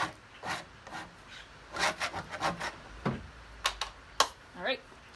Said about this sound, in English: scrape any excess off.